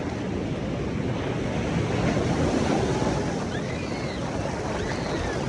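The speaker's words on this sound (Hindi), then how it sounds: "अब मेरे पीछे लहरें आ रही है।" Steady roar of ocean surf washing onto the beach at Jagannath Puri, continuous and loud, with wind buffeting the microphone throughout.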